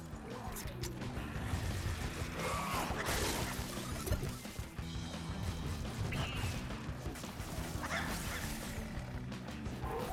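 A dog barks and attacks amid crashes and impacts in the video game Sunset Overdrive, with sharp yips and whimpers over busy game noise and a faint voice in the background.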